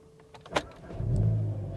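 A Volkswagen Golf GTI starts up: a brief starter whir and click, then the engine catches and settles into a steady, low idle, fairly close and without pops or bangs.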